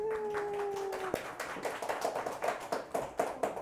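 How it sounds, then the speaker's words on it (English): A small audience in a kitchen store applauds a volunteer, sparse, close clapping from a few people with uneven rhythm, following a short sustained tone that cuts off. "Everybody, round of applause for Betty."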